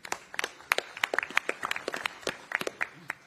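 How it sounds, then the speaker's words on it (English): Scattered applause from a small press conference crowd in Riyadh, with individual sharp hand claps in an uneven rhythm, fairly faint and close, lasting about three seconds. "Can we please get a round of applause for our brilliant MCs today?"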